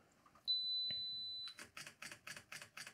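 A Fujifilm X-T4 set for focus bracketing on a 2-second timer gives a single steady electronic beep, then fires a quick, evenly spaced run of crisp, close shutter clicks.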